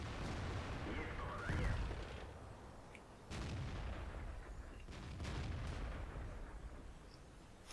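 World of Tanks artillery firing repeatedly at a KV-2 tank in a game battle; a few deep booming shots land at a moderate distance over a steady low rumble, with muffled talk underneath.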